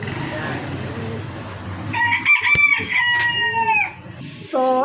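A rooster crows loudly and close by, a long wavering call with a second burst after it, over a steady low background hum.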